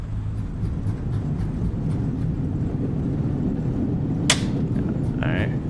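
Thrust reversers on an Airbus A320 landing in Microsoft Flight Simulator, a steady broad engine roar that swells into a sustained rushing wash, with a couple of short electronic cockpit tones near the end.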